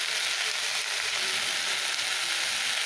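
Leafy greens sizzle and hiss continuously in a small wok (kadai) during stir-frying, a dense, steady bright frying noise heard close up without speech.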